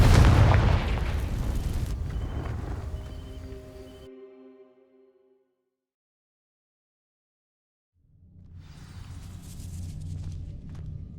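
Confringo fire spell igniting dry vines in Hogwarts Legacy, opening with a loud deep blast and crackle that fades slowly into silence, followed several seconds later by a low rumbling swell.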